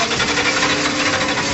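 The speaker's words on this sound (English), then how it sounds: "the East Coast Speed Machine's most important order of business is firing their engine" A '33 Ford Factory Five hot rod engine runs loud and close, a continuous rough mechanical rumble with rapid knocking pulses and no voices.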